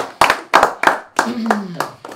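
Rhythmic group clapping at a festive gathering, several sharp bursts of claps in a steady beat, close and loud, with a voice sounding among them.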